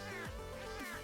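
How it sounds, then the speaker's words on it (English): A cat meow death sound from the Cat Warfare video game, a short synthetic meow with a falling, wavering pitch, played once, close and loud over a dense layered game audio bed. "This is the original Cat Warfare meows."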